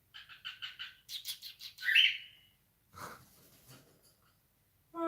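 Pet birds chirping indoors in a quick run of bright, rhythmic tweets followed by a louder call and a few scattered softer chirps, close and fairly quiet with no talking.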